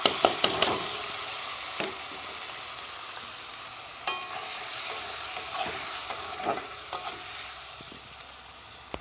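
Spices frying in a pan for a fish curry in oil, a soft continuous sizzle with occasional sharp clicks and knocks of stirring, nearby but fairly quiet, with no voices.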